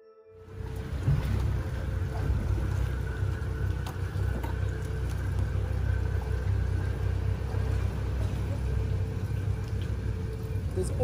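A trailer boat motors out to sea off Exmouth through rough weather, its engine a steady low rumble mixed with wind and water rush, loud and continuous after a brief quiet start.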